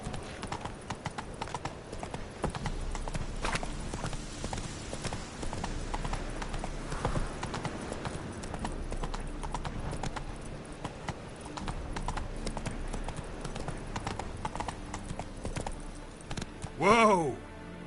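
Hooves of the horse Roach pound in a steady, continuous gallop in a video game, with a short whinny rising near the end over faint background sound.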